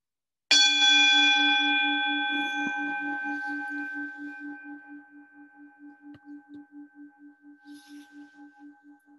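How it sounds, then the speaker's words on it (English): A single meditation gong is struck once, sharply, then rings with a long shimmering tone that slowly fades over several seconds with a gentle pulsing beat as it decays, heard alone in a quiet room. "so as the sound of the gong fades"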